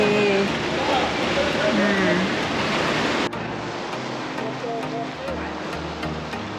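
Sea waves wash against the shore at a seaside homestay in Samaesan, Thailand, where the water is murky and choppy, a continuous close surf rush mixed with wind buffeting while someone talks over it.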